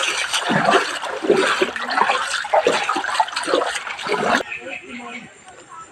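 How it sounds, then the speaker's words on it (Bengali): Pond floodwater rushes and splashes through a house in a steady wash close by, with people talking over it before the flow fades quieter. "এই জল এইদিকে চলে যাচ্ছে, পুকুরের জল আমাদের বাড়ি দিয়ে মরছে।"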